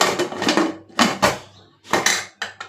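Metal clanks and clinks as a whistle weight is set onto a pressure cooker lid over biryani, several sharp knocks in short bursts, close and alone.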